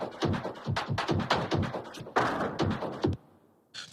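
Frame drum warp loop from the Hammers library, signal number 5: a steady run of close, punchy hand-drum hits in a quick, even rhythm, ending abruptly with a brief tail.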